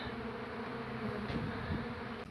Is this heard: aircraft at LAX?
no